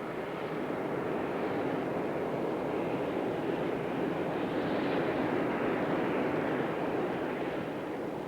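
A Super Guppy, an outsized cargo aircraft that carries Airbus fuselage sections between European sites, roars in flight with a continuous, even, broadband drone that holds steady throughout.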